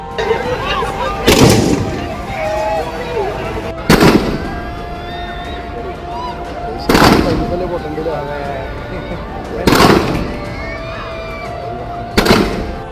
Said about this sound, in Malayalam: ഉദ്ഘാടനത്തിന്റെ ഭാഗമായി ഫാൻസി വെടിക്കെട്ടും നടന്നു